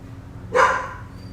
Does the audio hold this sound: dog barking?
yes